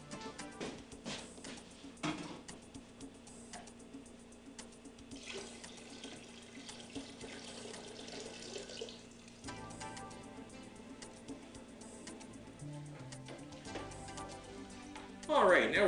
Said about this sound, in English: we're going to go back over to the sink, get some hot water